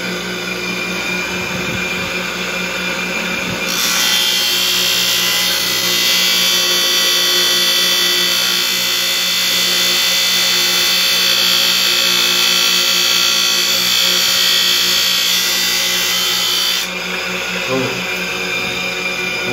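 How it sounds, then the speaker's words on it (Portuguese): A power tool cuts through an IMBEL piece, giving a loud, steady high-pitched whine that runs for about thirteen seconds. It starts and stops abruptly, with a lower mechanical hum underneath throughout. "já estou cortando aqui, ó, vou já apartar logo esse pedaço aqui"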